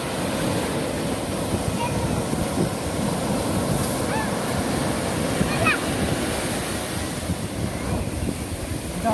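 Steady ocean surf roars continuously at a beach in Singkawang, West Kalimantan, with wind buffeting the microphone, big waves washing in without pause and no clear voices above the noise.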